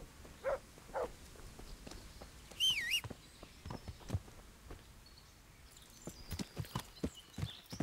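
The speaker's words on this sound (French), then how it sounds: "Oh, mon cheval." In the medieval video game Kingdom Come: Deliverance, a horse's hooves clop at a slow, uneven walk, with scattered soft thuds and a short bird chirp, fairly quiet and without talk.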